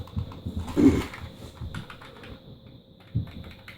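Irregular, fairly soft keystrokes on a rubber dome computer keyboard, with a louder cluster of presses near the start and another sharp press toward the end, heard up close without talk.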